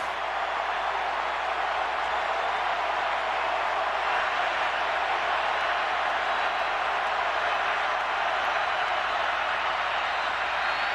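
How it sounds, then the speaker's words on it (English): A college football stadium crowd roars for the Auburn defense in a 2003 Tennessee vs Auburn game, a dense, steady wash of cheering noise sustained at a constant level throughout. "Crowd coming to life for the Auburn defense."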